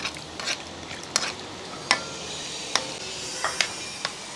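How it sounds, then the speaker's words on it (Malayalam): A spoon stirring a pot of mango curry with water and salt, a traditional Kerala leaf curry made with moringa leaves, giving sharp scattered metallic clinks and scrapes over a soft background simmer, with no voices. "ഇനി ഇളക്കി കൊടുക്കുക"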